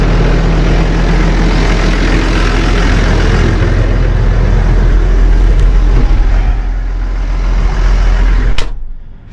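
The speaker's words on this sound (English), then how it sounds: "So let's jump in the tractor here, we'll get to work" Tractor engine running steadily with a deep, loud low rumble out on a gravel road job, holding a constant drone before cutting off sharply near the end.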